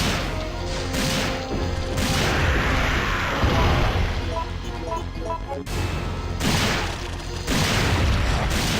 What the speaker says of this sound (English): I'm going to take this opportunity to shoot at Nemesis a little bit